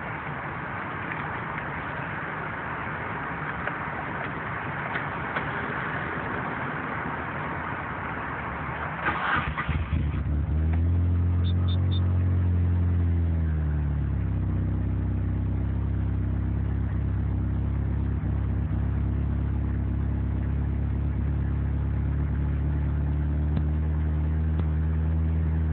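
Car engine running while a wideband air-fuel sensor is checked, first a muffled idle, then a loud, steady rev that rises and settles into a sustained drone close by.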